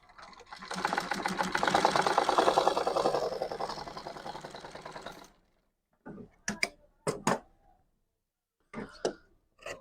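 A tailoring sewing machine runs in one sustained, whirring burst as it stitches a loose edge of a pant, then stops, followed by a few short clicks and handling knocks.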